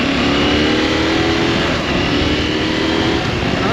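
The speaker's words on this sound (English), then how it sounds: "Just going through the gears" A KTM 890 Adventure R motorcycle engine runs steadily and loud, its pitch climbing through gear changes as it pulls along a street at moderate revs, with no voices.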